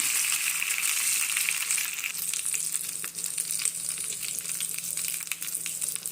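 Loud, steady sizzling and crackling of a tempering of dried red chillies and asafoetida frying in hot oil, with scattered pops throughout and no voices.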